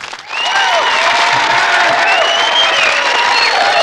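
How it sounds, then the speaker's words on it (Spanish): Audience applause breaks out and holds steady as a dense, continuous clatter of clapping for several seconds, with a few faint voices and cheers mixed in. "Y te merece un aplauso."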